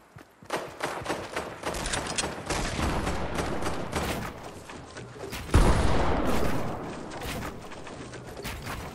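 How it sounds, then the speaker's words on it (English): Dense, continuous gunfire in a Fortnite match, many rapid overlapping shots forming a loud, busy barrage with one heavier blast midway, close and unbroken with no talking. "Gun fire."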